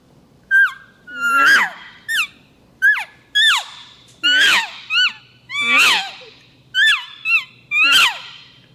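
A handheld call imitating a cow elk in estrus, a series of about ten high, sliding mews and chirps in a steady rhythm, loud and close with no talk over them.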